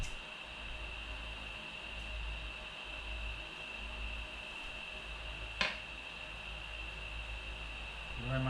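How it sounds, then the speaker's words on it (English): A fan whirs steadily in a room as a constant, fairly quiet hiss with a faint hum. One brief click breaks in near the end. "I apologise for the fan noise."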